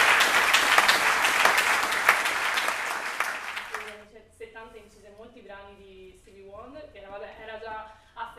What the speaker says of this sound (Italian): vorrei che le facesse un applauso